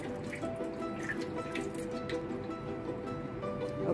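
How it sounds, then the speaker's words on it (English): Colored liquid is poured into a tray, giving a faint, soft trickling with small drips and splashes scattered through the short stretch, heard close and quiet. "first, pour in the colored liquid into the tray"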